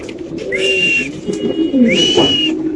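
Spanish pigeons coo in low, throaty rolls, joined twice by a bright drawn-out whistling call, all close by and continuous.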